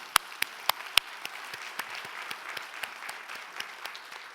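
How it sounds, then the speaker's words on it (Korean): A church conference congregation gives sparse, scattered applause, with a few sharp hand claps standing out at first and lighter, thinning claps following at irregular intervals, fairly quiet overall. "우리 박수 한번 할까요?"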